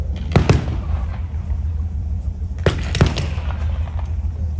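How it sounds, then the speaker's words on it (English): Gunfire during a Sherman tank battle reenactment, several sharp cracks and bangs in two separate bursts, spaced apart over a constant outdoor rumble at mid distance. "It's going to turn into a firefight now between the Shermans"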